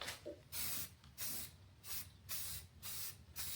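Aerosol spray paint laid onto a Jeep hood in light coats, a series of loud, close hissing bursts of about half a second each, repeated rhythmically with brief pauses between them.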